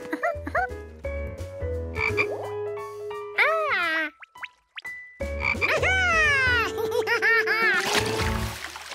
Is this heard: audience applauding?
no